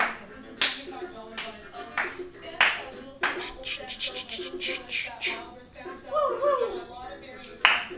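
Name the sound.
hands clapping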